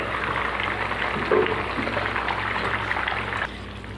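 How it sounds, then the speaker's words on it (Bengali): Bengali fish curry (macher jhol) made with silver carp boils in a pot, a close, steady bubbling and simmering hiss with no voices. "দেখুন মাছের ঝোলে ভালো করে জাল উঠে গেছে।"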